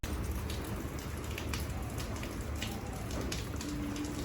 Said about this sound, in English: It's heavily raining here.